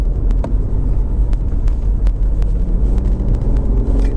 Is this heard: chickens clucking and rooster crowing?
no